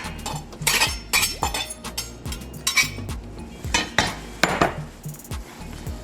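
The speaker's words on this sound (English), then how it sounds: "Transfer in the spinach, the chopped spinach." Chopped spinach is transferred into a bowl while making stuffed chicken breast, giving a string of close, sharp clinks and scrapes of utensils against dishware in uneven bursts, with no talking.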